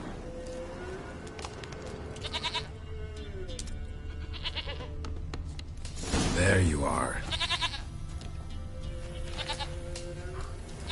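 A goat bleats a few times in The Witcher video game, with game voices talking over it and the usual in-game background around them.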